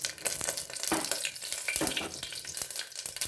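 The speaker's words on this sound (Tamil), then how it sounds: "கடுகு ஜீரகம் நல்லா பொரிஞ்சிருச்சு" Mustard and cumin seeds crackle and sizzle in hot oil in a pressure cooker with dried chillies, giving a continuous close frying hiss full of rapid popping snaps, with no voices.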